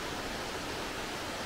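Crabtree Falls in the Blue Ridge Mountains pours down as a steady, dense broadband roar of falling water, close and unbroken, with no voices.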